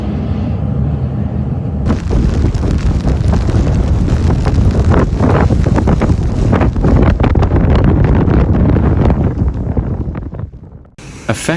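Strong gusts of Storm Kristin batter the microphone outdoors in central Portugal, a loud continuous roaring wind rumble that swells and holds for seconds, dropping away only briefly near the end.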